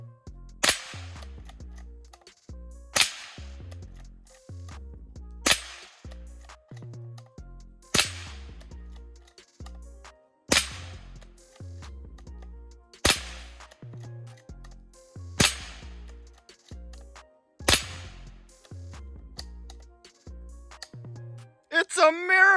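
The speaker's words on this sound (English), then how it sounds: "We're gonna attempt to shoot 10 rounds without an issue" A Mossberg International 802 Plinkster rifle fires ten rounds, sharp loud cracks spaced a couple of seconds apart with short decaying echoes, each shot distinct and close, with quiet mechanical handling noises between.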